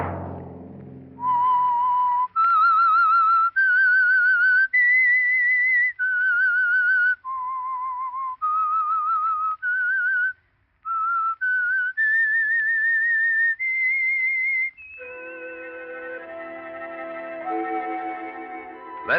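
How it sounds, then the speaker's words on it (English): A whistled theme melody from The Whistler, an old-time CBS radio drama, rings out clearly as a sequence of sustained pure notes stepping up and down, followed by a brief orchestral musical swell at the end. "Let that whistle be your signal for the Signal Oil program, The Whistler"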